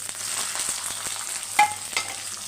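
Chopped onion, green chillies and curry leaves frying in hot oil with cumin seeds give a continuous crackling sizzle, close and fairly loud, broken by a couple of spatula clinks as the mixture is stirred, with no talking.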